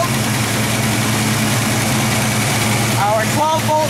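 A 1968 Ford Mustang coupe engine idles steadily up close, its power steering pump adding a constant whir beneath the loud, even running note.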